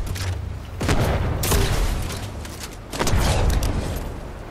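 Gunfire in the video game Fortnite comes as two loud, booming bursts of rapid shots a couple of seconds apart, with rumbling noise in between and no talking.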